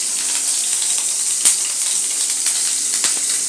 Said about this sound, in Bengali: আমি এবারটাতে জল দিয়ে দেবো।